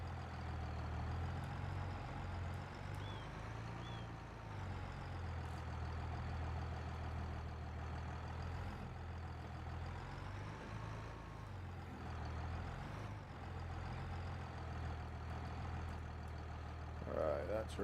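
A steady, low truck engine hum drones throughout in Farming Simulator 25, idling and shifting slightly in pitch, with a brief air-brake hiss near the end.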